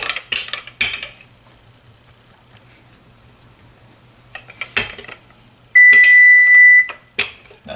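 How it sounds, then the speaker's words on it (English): A kitchen stove sounds a steady electronic beep lasting about a second once preheated and ready, standing out alone after softer clinks of dishes and cutlery while quiche cheese pies are being made. "That's the stove. The stove is ready."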